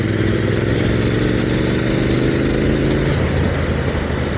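Close, loud motorcycle engine revving, a throaty rumble whose pitch climbs and eases throughout, with no voices.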